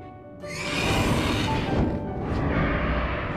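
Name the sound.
dragon voice made from leopard, vulture and pig sounds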